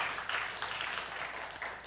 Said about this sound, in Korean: 여러분 수고했다고 많이 격려해 주시고 박수 한번 할까요?